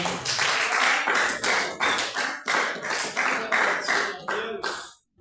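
Congregation applauding at a church worship service, a steady run of dense hand claps with slight rhythmic pulses, moderately close, fading out abruptly near the end.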